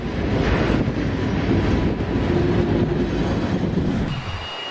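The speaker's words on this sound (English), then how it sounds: "Boeing 737 fuselages are built in Wichita and hauled across the U.S. on BNSF rail lines to Boeing's Renton assembly plant" Freight train on BNSF rail hauling Boeing 737 fuselages from Wichita toward Renton, a steady loud rumble of wheels and rail cars rolling past, continuous for several seconds before easing at the end.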